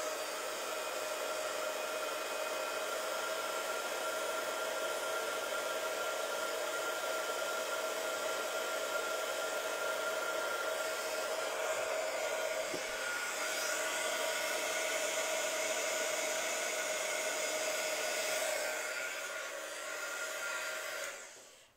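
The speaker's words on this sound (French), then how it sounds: "je vais me resservir de mon sèche-cheveux" A hair dryer runs steadily at close range drying powder on a card, a constant whirring hum and airy rush that continues without pause before easing off at the very end.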